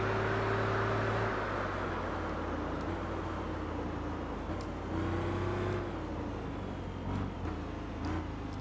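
A deep, rumbling muscle car engine in the racing game Tourist Trophy droning steadily, its pitch rising and falling as it revs, loud and continuous with no voices.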